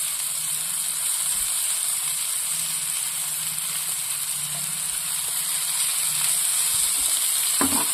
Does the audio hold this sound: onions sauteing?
yes